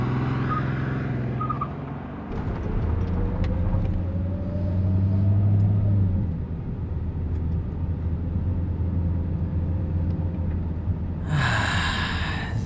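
Steady low engine rumble and road hum from a car driving around town, heard from inside the cabin, continuous and moderately loud, with soft breathing close by and no speech.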